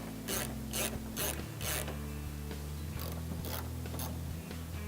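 A ratchet loosens 10mm headlight bolts on a 2014-or-later Toyota Tundra, giving steady close-up bursts of rapid clicking in two groups with brief pauses between, over a low hum.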